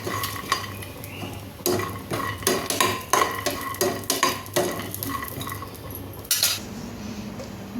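Peanuts roasting in a pan for a bottle gourd (dudhi) dish, stirred with repeated scraping and clinking of a utensil against the metal, quick uneven strokes close by with a faint dry rattle underneath and no talking.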